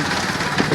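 A tractor engine idles at a roadside crossing on the way to Deesa, a steady mid-pitched rumble that continues evenly through the short moment with no talk over it.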